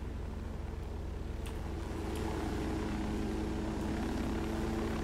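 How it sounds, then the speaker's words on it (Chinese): A helicopter in the shooter game Ghost Recon Wildlands drones steadily with a low engine hum and rotor wash, continuous and moderately distant, with no talk over it. "下面那台直升机比较厉害的感觉"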